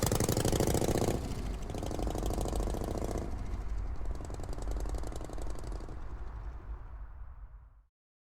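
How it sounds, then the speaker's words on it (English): A motorcycle engine revs loudly up close as the rider pulls away down an empty street, rumbling steadily before fading and cutting off after about eight seconds, staged as an audio drama effect. "climbs on his bike and speeds down an empty street"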